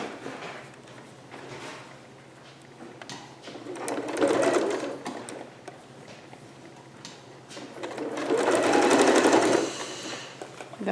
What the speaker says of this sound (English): Now I'm going to stitch this at a true 5/8